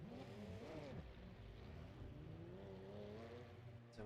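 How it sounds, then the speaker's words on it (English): Porsche GT3 Cup race car engines in a racing video game at Fuji, a steady droning roar of several cars with rising and falling engine tones, continuous and fairly loud throughout with no talk. "I can hear engines."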